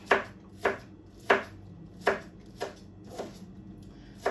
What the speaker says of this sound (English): so you guys can see how I'm gonna chop this onion real good